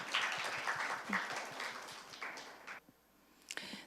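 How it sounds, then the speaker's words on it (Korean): Audience applause welcomes a speaker at a university forum, a moderate patter of clapping that thins out and fades near the end, with a few scattered claps after. "박수로 맞이해 주시기 바랍니다."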